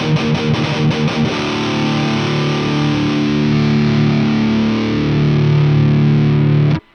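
Distorted electric guitar played through an EVML cabinet impulse response, with a quick series of tight muted chugs followed by a long sustained chord that swells slightly before cutting off abruptly, loud and close.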